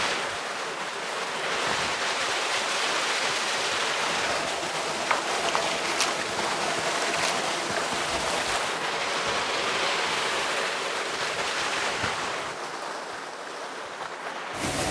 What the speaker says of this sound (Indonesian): ini adalah air terjun panas